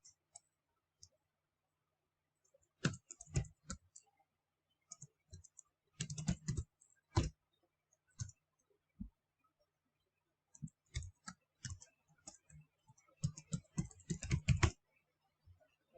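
A computer keyboard is typed on in short bursts as a username and password are entered, with quiet, close clicks and clacks separated by brief pauses and a few isolated taps.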